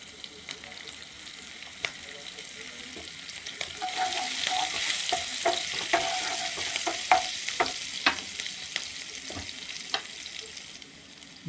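Cumin seeds and green chilies fry in hot oil for a Lucknowi-style tawa paneer tikka masala, giving a soft steady sizzle with scattered crackling pops and occasional utensil stirring clicks that grow busier midway.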